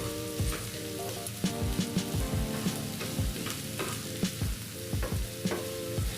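Onions frying on a tawa, a steady close sizzle broken by frequent scraping clicks of a spatula stirring the pan.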